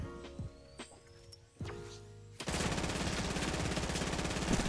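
Fortnite gunfire during a shotgun-only match: a few isolated booming shots with ringing tails, then a sudden dense, continuous burst of rapid fire that stays loud to the end.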